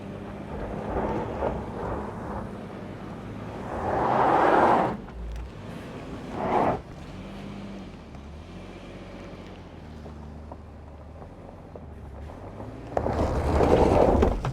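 A Lexus LX700h Overtrail climbs a steep off-road test hill, its engine surging in loud bursts between quieter stretches of low rumble, with gravel and strain noise close to the microphone.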